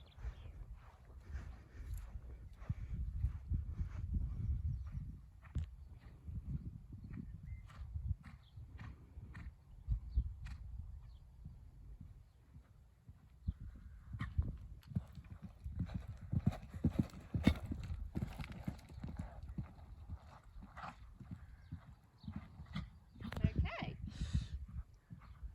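A horse canters around a showjumping arena, hooves thudding in a steady rhythmic clip-clop on the ground, with occasional snorts and a rider's and coach's voices speaking intermittently over the hoofbeats.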